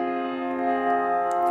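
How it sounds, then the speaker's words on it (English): Steady electronic tones representing the light spectrum of helium, several pure pitches held together as a sustained chord, with a faint higher blip near the end. "Helium, it's a little bit more complicated, so you might get something that sounds like this."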